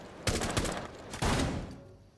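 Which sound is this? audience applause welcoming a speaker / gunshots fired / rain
gunshots fired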